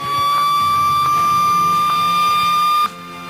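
A loud, steady electronic tsunami warning siren tone holds for about three seconds during a test in Mumbai, then cuts off abruptly, leaving a faint hum.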